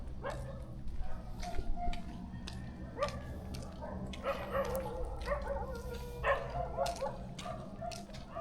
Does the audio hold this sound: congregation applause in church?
no